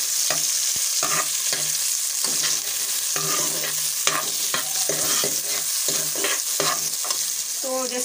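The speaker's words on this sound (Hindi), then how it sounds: "मैं प्याज ब्राउन कर रही हूँ यहाँ पर" Onions browning in a frying pan keep up a continuous close sizzle, while a spatula scrapes and taps against the pan in an irregular rhythm throughout, no talking.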